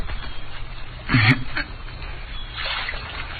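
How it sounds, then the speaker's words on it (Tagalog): Ducks quack in a short, faint cluster over a steady background of water and ambient noise, with no talking. "Hoy mga ibon, maghanap na kayo na makakain nyo!"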